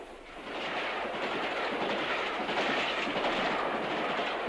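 A train runs along the Great Western main line from Bristol to Exeter through Highbridge station, a steady, broad rumble of wheels and carriages building quickly and holding loud and fairly close throughout.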